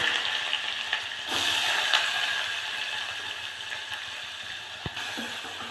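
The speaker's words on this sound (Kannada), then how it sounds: "ಇದು ಈ ಥರ ಆಯಿಲಲ್ಲಿ ಈರುಳ್ಳಿನ ಚೆನ್ನಾಗಿ ಫ್ರೈ ಮಾಡ್ಕೊಳ್ಳೋಣ" Chopped onions frying in hot oil with mustard seeds and curry leaves, a steady close broadband sizzle with occasional stirring clinks, heard alone without talk.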